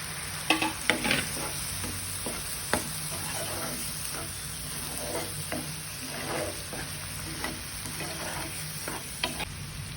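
Masala for a besan dish is sautéed in a pan with a quiet sizzle underneath, while a spatula repeatedly scrapes and stirs in irregular strokes close by.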